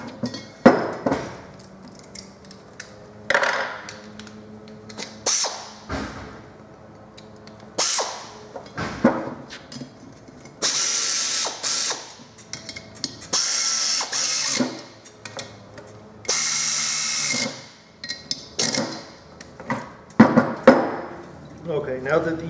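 A ratchet wrench clicks in repeated bursts while lock nuts are torqued down on a Wacker trash pump, with metallic clinks between strokes and a person talking intermittently.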